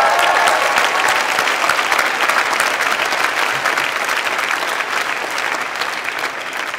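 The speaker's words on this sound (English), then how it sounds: "If you're applauding for that" A commencement audience applauds steadily throughout, a dense, loud wash of many hands clapping that fades slightly toward the end, with no talking over it.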